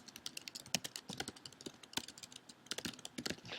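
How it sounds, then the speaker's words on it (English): Rapid keystrokes on a computer keyboard while a note is typed in, irregular bursts of clicks with brief pauses, close and fairly quiet with no voices. "And I can type in some details."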